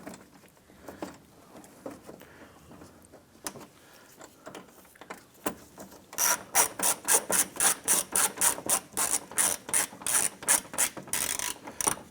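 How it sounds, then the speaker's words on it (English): A ratchet drives an 8mm fender screw on a 2011-2018 Ram 1500, a few scattered clicks at first, then a fast, loud run of regular ratcheting clicks close by, with no talking. "Let's install an 8mm fender screw here."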